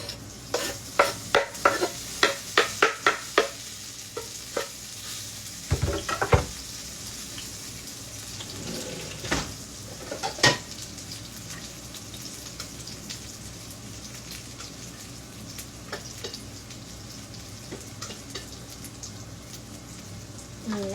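Ingredients for lime leaf rice being sautéed in a pan, a run of sharp stirring clacks early on, then a soft continuous sizzle that carries on quietly with occasional scrapes.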